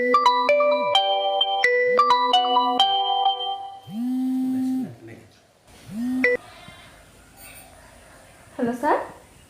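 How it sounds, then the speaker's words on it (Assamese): A mobile phone ringtone plays a bright, repeating electronic melody of short clear notes, followed by sustained tones and voice-like sounds toward the end. "তই নয়নালৈ ফোন এটাকে কৰচোন ৰবি মই নয়নালৈ ফোন এটাকে কৰোঁ"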